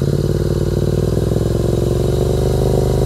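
Royal Enfield GT 650 twin with a Motor Torque aftermarket exhaust, held at about 3000 rpm: a loud, steady, close-up engine throb with a rhythmic pulsing exhaust note and no talk.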